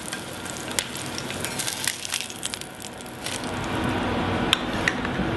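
Fish frying in a Le Creuset pan, a close crackling sizzle with scattered pops and spatters that grows slightly louder toward the end, no voices.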